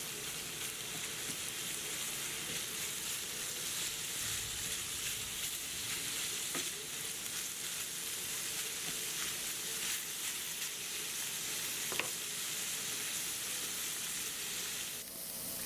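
A ground beef sausage mixture for stuffed peppers sizzles in a pan as it is stirred. The frying hiss is steady and fairly quiet, with an occasional faint knock of the spoon.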